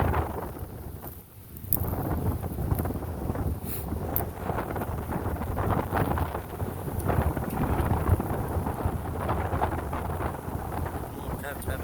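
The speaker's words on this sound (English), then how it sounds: "40-mile-an-hour winds at least." Strong gusting wind of around 40 miles an hour roars across a bluff top in a southern Illinois forest, buffeting the microphone with a loud, continuous rumble.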